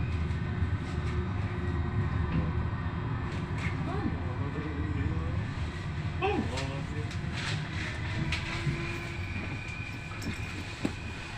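Train noise at Pisa Centrale station after a Trenitalia run from Milano Centrale: a steady low rumble of rolling stock with faint squeals and clanks, voices murmuring underneath throughout.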